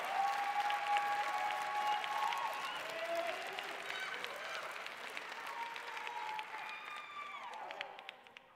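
An audience at a West Coast Swing dance event applauds a dancer with steady, full clapping that slowly fades, while music with whistling tones plays over it.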